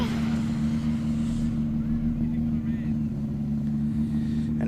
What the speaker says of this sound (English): all I can hear is limiter